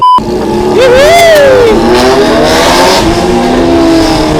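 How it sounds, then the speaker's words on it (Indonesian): A Kawasaki ZX6R motorcycle with a loud aftermarket exhaust revs hard up close, its pitch climbing sharply and then sliding back down into a rough, throaty idle over a few seconds. "Knalpot petir."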